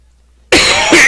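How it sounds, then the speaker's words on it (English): A sudden, loud cough bursts out close to the microphone after a moment of silence, followed by a second cough. "Didn't mean to cough so loud in the microphone."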